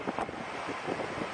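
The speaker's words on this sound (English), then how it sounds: "It's getting windy." Strong gusting wind from an approaching Arizona haboob dust storm buffets the microphone in a dense, rumbling roar with irregular surges, loud and close.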